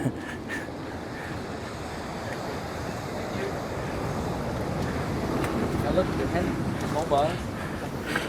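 Waves wash over a pebbled beach beside a rock archway on Madeira's north coast, a continuous close rush of surf mixed with wind noise, with faint voices and a few higher calls near the end.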